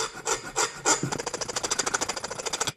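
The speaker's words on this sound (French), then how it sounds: "un petit coup de ponçage sur le dessus" Small metal key-lock pin for a GIVI case barrel, held in tweezers, rasped across an abrasive: three slow separate strokes, then a quick run of short regular scrubbing strokes, close and clear with no talking.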